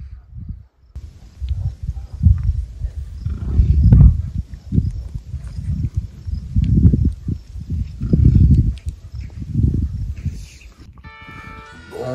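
Female bison give low, grunting calls to their calves, a series of deep rumbling bellows repeating irregularly at close range, with a brief bright tone near the end.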